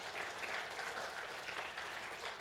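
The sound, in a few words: church congregation applauding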